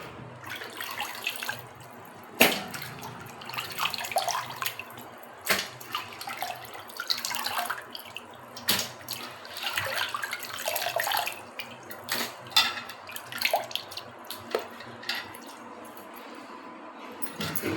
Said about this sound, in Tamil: கறி பாருங்கள், நல்லா கழுவி வச்சு சுத்தமாக இந்த கூடையில் தண்ணி வடிய வச்சிங்கன்னா